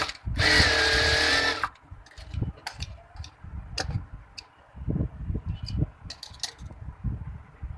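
A sewing machine stitching a half-inch seam on baby frock fabric makes a loud whirring run of just over a second, followed by scattered light ticks and clicks of fabric handling, with no speech.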